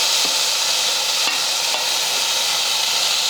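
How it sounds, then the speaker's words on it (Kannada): Onion, garlic, tomato and turmeric tempering stirred in a hot pan, a steady broadband sizzle with a few faint scrapes of the spoon, close and continuous with no talk. "ಇದನ್ನು ಚಲೋ ಹೊತ್ತಿಗೆ ಮಿಕ್ಸ್ ಮಾಡ್ಕೊತೀನಿ ರೀ."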